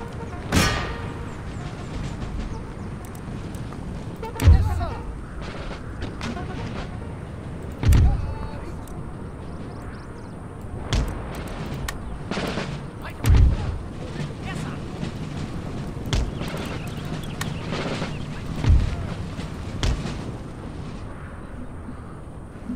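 Artillery guns fire in Empire Total War, a Napoleonic-era strategy game battle: about six separate booming shots spaced several seconds apart over a steady rumbling din, with someone talking throughout.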